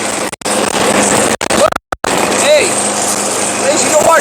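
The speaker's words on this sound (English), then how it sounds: "let's get this mower started" A small lawn mower engine runs steadily just after its pull start, with a continuous buzzing drone and brief dropouts early on, while a voice talks over it close by.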